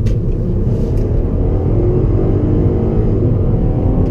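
An Audi A3 accelerates hard, its engine rumbling steadily and loud close up for the whole stretch with no talk over it.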